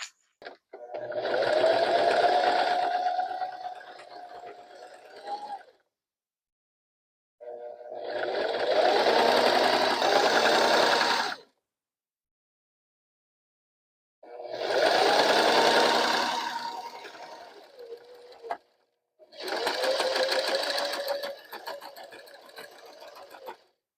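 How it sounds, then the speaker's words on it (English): A sewing machine stitches along a center line on a fabric toy-storage project, running in four steady whirring bursts of several seconds each, separated by silent pauses. "I'm gonna be stitching just on this center line here."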